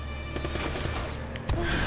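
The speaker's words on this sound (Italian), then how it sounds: "mi sembrava di aver sentito uno sparo" A burst of sharp, rapid gunfire from the video game Uncharted: Drake's Fortune cracks in a quick volley, followed by a single louder bang near the end.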